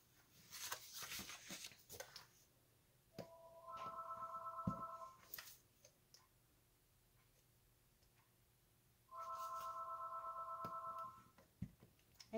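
A home landline telephone rings in two clear electronic trill bursts, each about two seconds long with a pause between, fairly loud over a quiet room with faint handling noises.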